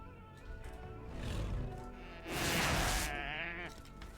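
Animal bleats from a game, a few drawn-out calls, the loudest in the middle, over a steady background of game sound.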